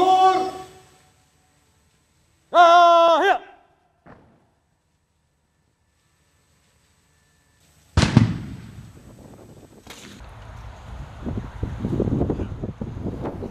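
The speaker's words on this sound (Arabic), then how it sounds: "بعد ذلك أطلقت المدفعية طلقة واحدة" Artillery fires a single ceremonial shot at Bahrain's Martyr's Day ceremony: a loud, sharp boom lands midway and rolls off into an echoing rumble under outdoor wind noise, after quiet gaps and a brief tonal call earlier.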